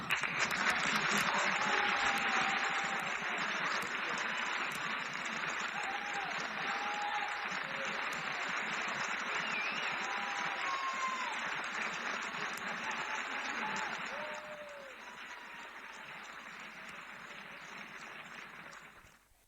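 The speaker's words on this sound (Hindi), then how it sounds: "जोरदार तालियां बजाते रहिए आप लोग सभी।" An audience claps at a religious quiz-show event during a festival gathering, a long, steady wash of applause with a few whistle-like tones over it, fading noticeably near the end.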